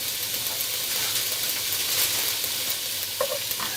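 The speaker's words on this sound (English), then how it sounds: "We simply want to add some color to the shrimp." Shrimp sear in a hot pan for a Thai fish soup, giving a continuous, close, even sizzle and hiss throughout, with faint clinks near the end.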